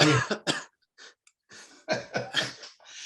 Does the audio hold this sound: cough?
yes